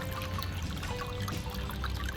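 Water trickles and pours steadily in a small garden fountain made from terracotta pots, a continuous close splashing dribble.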